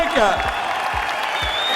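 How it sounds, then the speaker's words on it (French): An audience in a hall applauds steadily, dense clapping throughout while a voice speaks briefly over it and a few whistles ring out. "Vos applaudissements, mesdames et messieurs, pour cette légende"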